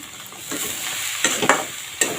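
A utensil scrapes and stirs a bottle gourd shoot and chickpea stir-fry in a pan over a soft sizzle, with a few sharp clinks against the metal.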